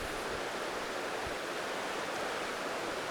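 A clean creek flows nearby, a steady loud broadband rushing hiss of water running continuously without pause and with no voices.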